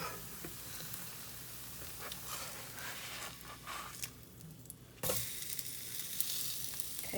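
A sooji cheela cooking on its second side in a pan, a soft steady sizzle with light crackle and a sudden brighter burst of frying partway through, quiet and close, no speech.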